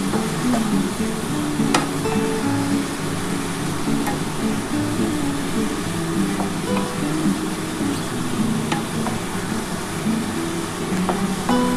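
Shredded cabbage frying in a pan, stirred and sizzling steadily, a constant hiss with occasional scrapes and light clicks of the spoon, moderately quiet and continuous.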